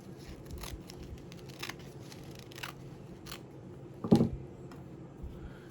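Scissors snipping fabric trimmed for a starfish 3D wall art frame in a beach craft project, with a faint scratchy background and one sharper, louder cut near the end, close by and alone.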